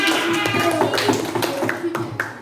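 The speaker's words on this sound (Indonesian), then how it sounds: "tepuk tangan" Pupils in a classroom clap together in a dense, continuous patter of many hands, loud and close, with children's voices mixed in throughout.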